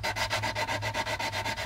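Sandpaper rubbed quickly back and forth over a plastic part of an AMT U.S.S. Enterprise model kit, giving about ten even scratchy strokes at close range with no voices.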